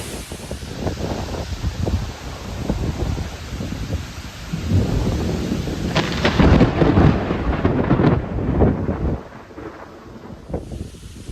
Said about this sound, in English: I think we might get a thunderstorm here.